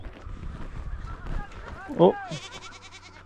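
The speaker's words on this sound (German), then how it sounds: "Dann holt ein Agierto gerade seine Ziegen zusammen." Goats bleat loudly close by as a goatherd gathers them with his dogs during a trek in Patagonia. One strong bleat stands out partway through over rustling outdoor noise, and a person briefly exclaims.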